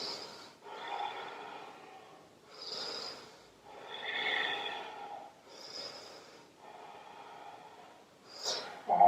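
Slow, audible breathing held through a yoga pose in a Hatha flow, with about seven soft, close inhales and exhales alternating in an even rhythm and ending in a sharper breath.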